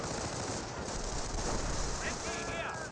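Sustained rapid automatic fire from an MG42 machine gun in a Company of Heroes battle, a dense continuous rattle that holds steady at high level for the whole stretch, with faint voice-like tones near the end.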